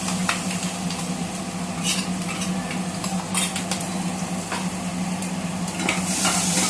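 Vada pav potato filling with masala is sautéed in a pan: a continuous close sizzle with repeated scraping stir strokes and light utensil clinks, no talking.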